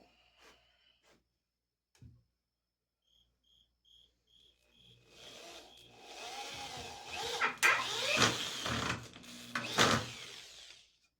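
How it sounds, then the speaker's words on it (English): A cordless drill with a worn, rounded screwdriver bit whirs in bursts, loud and close, with grinding and rattling as a screw is driven into wood for a workbench. "Put your screwdriver bit in your drill."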